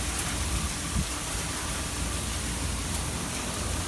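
Hurricane rain and wind lash steadily outside a house, a dense, constant roar of rainfall with gusting wind, sustained and fairly loud with no voices.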